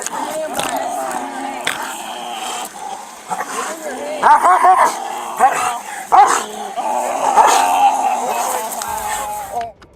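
A police dog barks and snarls while attacking a man, its yips and growls mixed with the man's screams and pleading and the shouting of troopers nearby.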